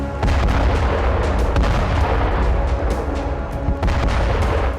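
Rapid weapon fire from a Bradley fighting vehicle, heard as loud repeated booming shots in a continuous burst at close range, with no voices.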